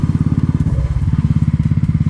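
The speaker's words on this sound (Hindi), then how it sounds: "सच में मज़ा आ रहा है ऐसी बढ़िया रोड पर बाइक चलाने में" A motorcycle engine thrums with a fast, even pulsing beat on a newly built mountain road near Chamba and Bharmour, loud and close throughout with no talk over it.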